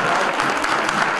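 An audience at a book presentation during the FIL Guadalajara 2013 book fair breaks into dense, loud applause, a brief continuous burst of many hands clapping together.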